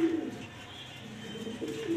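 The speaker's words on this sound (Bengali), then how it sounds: "মাদি কবুতর, নর কবুতর দেখতে পাচ্ছেন" Grizzle-colored pigeons cooing in a loft, low soft coos repeating near the start and end, close and moderately quiet over faint background rustle.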